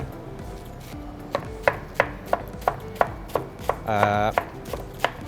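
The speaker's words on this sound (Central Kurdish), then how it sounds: "کەلەرمەکە دەستەکەین بە وردکردنی بەم شێوازە" A knife chops cabbage on a cutting board in steady, crisp strokes, about a dozen evenly spaced cuts, close and clear with no speech.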